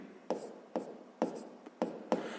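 Pen strokes on paper as a sixth-grade math solution is written out, five or six distinct scratchy bursts of writing spaced at a steady rhythm, close and moderately loud with quiet gaps between, no voices.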